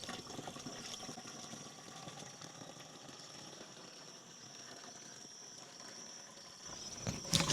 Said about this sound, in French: Donc, on introduit 10 litres d'eau.